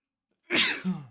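One sharp, close sneeze from a person bursts out of silence, with a quick explosive onset and a short trailing tail, and no talking around it.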